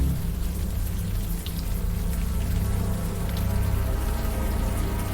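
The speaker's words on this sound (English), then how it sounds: "the warm rain is coming down" Warm rain falling in the video game Unavowed, a steady, dense patter of drops on surfaces that fills the scene evenly and continuously, with no voices over it.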